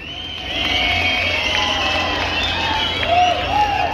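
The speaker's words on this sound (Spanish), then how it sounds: "los de la banda te aplaudieron" Outdoor crowd at a carnival jaripeo cheering and clapping for a band, a sustained wash of shouts, whoops and children's voices, loud and close, swelling slightly toward the end.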